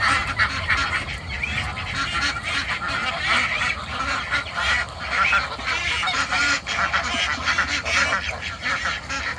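A flock of geese honks continuously at close range during feeding time, with overlapping loud calls and some duck-like quacks forming a dense, unbroken din.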